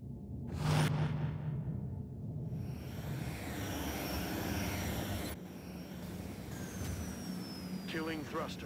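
Aircraft thrusters in the video game XCOM Long War roar and whoosh in a long swelling rush, with a rising whine and game voice lines under the engine noise.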